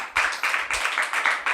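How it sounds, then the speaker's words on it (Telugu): A congregation at a cottage prayer meeting claps hands loudly in a steady, rapid rhythm, many hands together at close range with no talking. "చప్పట్లు కొట్టండి గట్టిగా."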